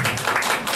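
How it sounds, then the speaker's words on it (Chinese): An audience at a community college lecture applauds warmly, a brief, dense wash of many hands clapping heard close and fairly loud. "各位掌声这么热烈"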